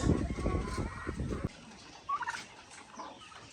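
Laying hens are fed crumble feed on a farm. Close, busy scratching and pecking noises come first, then a short burst of clucks and calls from the fowl, with no talk.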